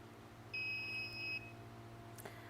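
A foil press machine used for monogramming a tag gives one steady electronic beep of about a second, a clean two-tone pitch over a low mechanical hum, followed by a faint click.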